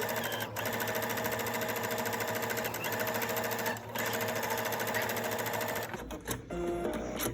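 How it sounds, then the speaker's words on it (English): A sewing machine top stitches the seam of a fabric mask with a steady, rapid mechanical whir, close and continuous, before stopping with a few clicks near the end. "I'm going to top stitch on both sides, and that'll just hold down"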